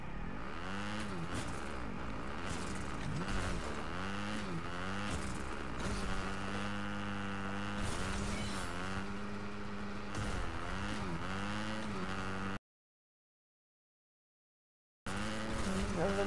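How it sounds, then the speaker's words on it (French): Motorcycle engine in the Fortnite video game, a steady buzzing drone with rising and falling revs for about twelve seconds, then a brief cut to silence before the engine tone returns. "Bruit de moto."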